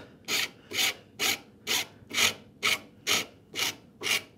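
A hand rasp or file roughs out a wooden saw handle with nine even strokes in a steady back-and-forth rhythm. The scraping is close and moderately loud, with no voices.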